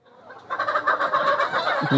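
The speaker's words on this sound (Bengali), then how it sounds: "এই অনেক মুরগি গাড়িতে চলে গেছে" Layer hens being sold and loaded onto a vehicle cluck busily at close range, several birds overlapping in a continuous chatter after a soft start.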